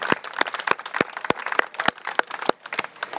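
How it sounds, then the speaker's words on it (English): An outdoor crowd at a 2019 dog park ceremony in Dunkirk, New York gives a short burst of applause, scattered distinct claps at moderate distance, brief and thin rather than a large ovation. "Let's give Purina a huge round of applause."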